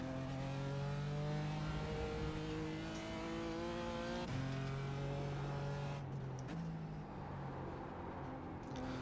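A GT4 race car engine in the iRacing sim at Mid-Ohio drones loud and steady, its pitch climbing through the gears with a sharp shift and a drop as the car slows for a corner.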